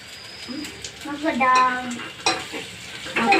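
Food sizzles and fries in oil in a pan while being stirred, with a steady close crackle and scraping, and voices talking over it throughout.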